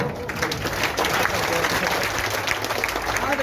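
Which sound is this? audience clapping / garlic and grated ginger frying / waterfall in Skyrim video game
audience clapping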